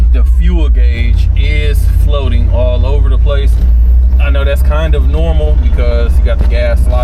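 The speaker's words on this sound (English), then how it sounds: "I'm driving down the road, hands off the steering wheel." A 1964 Chevrolet Impala SS convertible cruises down the road, its engine and road noise forming a loud, steady low rumble underneath someone talking throughout.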